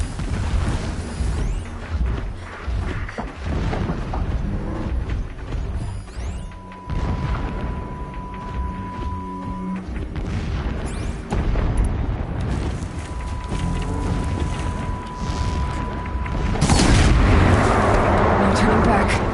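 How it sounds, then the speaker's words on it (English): Deep, rumbling booms roll on continuously in the video game Horizon, a heavy low roar of distant blasts with a long steady tone drifting over it and a louder surge near the end. "Explosions in the distance."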